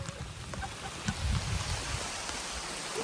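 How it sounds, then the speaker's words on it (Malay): Heavy rain hisses steadily across the whole stretch by the Muar River, with a few low thumps and rumbles underneath, no talking. "Oi, hujan lebat oi."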